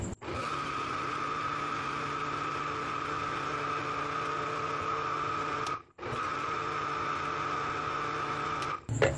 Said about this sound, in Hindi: अब हम चीनी डालेंगे, दूध डालेंगे। अब हम इसको ग्राइंड कर लेंगे।